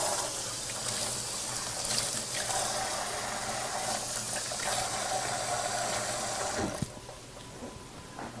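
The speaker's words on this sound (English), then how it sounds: "So let me wash my hands and I'll be right back." Running tap water pours steadily as hands are washed, a continuous close splashing gush that cuts off abruptly near the end, leaving quieter room sound.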